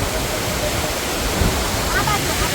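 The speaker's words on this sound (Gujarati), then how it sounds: "આ ભાઈ ડેમનું પાણી આવી રીતે જાય છે અત્યારે" Water of the overflowing Shetruji dam near Palitana pours and rushes in a steady, dense roar that stays loud and even throughout, with no clear talking over it.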